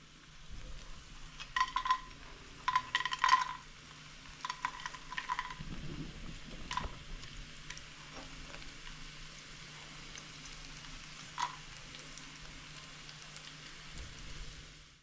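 Cashews frying in ghee in a pan for carrot halwa, giving a steady soft sizzle with brief louder crackling bursts early on, with no talking.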